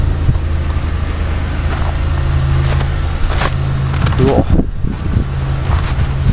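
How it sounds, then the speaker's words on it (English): A Pontiac Grand Am GT idles in winter cold, its engine giving a steady low rumble throughout, with a faint breeze and a single short spoken word partway through. "My car's been running for quite a while."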